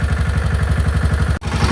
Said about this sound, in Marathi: ट्रॅक्टर चालू ठेवलं असं.